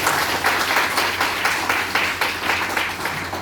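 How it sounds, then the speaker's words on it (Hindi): Audience clapping at a training seminar, a steady room-filling patter of many hands with a faint pulsing rhythm, moderately loud and continuous with a low hum underneath. "ताली बजा सकते हैं।"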